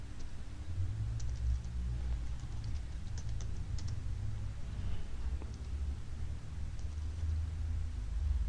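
Computer keyboard being typed on to enter network commands, soft rapid key clicks scattered over a low steady hum and room noise, faint and fairly close, with no voices.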